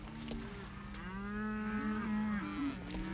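Several cattle moo in long, drawn-out lowing calls, overlapping and fairly close, with no talking.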